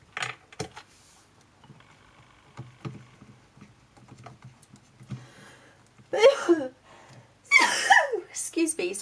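Faint clicks and light handling noises, then two loud, abrupt sneezes close to the microphone near the end.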